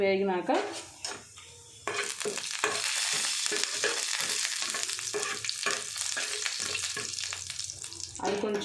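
Mustard and cumin seeds frying in a pan with oil for pickle rice, a steady crackling sizzle close by, with spoon scrapes and stirring clinks throughout.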